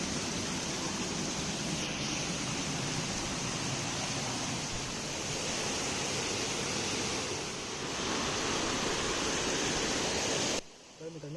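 Spring water trickling and splashing steadily out of rock on a mountainside, a close continuous wash of flowing water that cuts off abruptly near the end.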